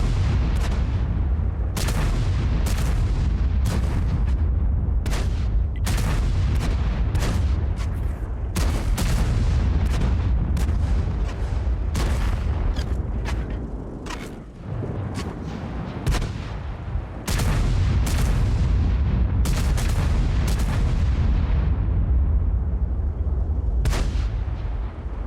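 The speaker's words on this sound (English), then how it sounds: "you guys really just want to hear big guns going boom in World of Tanks" Heavy tank guns fire again and again in World of Tanks, loud booming cannon shots with sharp cracks and rolling echoes, spaced irregularly a second or two apart, with a brief lull near the middle.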